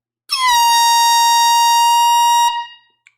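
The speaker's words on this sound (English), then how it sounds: "Let's blow the air horn one last time tonight." A single loud air horn blast holds steady for about two seconds, then cuts off, with a faint clack shortly after, sounded during a live record sale stream.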